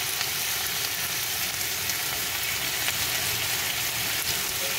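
Chopped onions fry in a pan of oil for vegetarian chilli paneer, with a steady, dense sizzle that stays close and even throughout and has no talking over it.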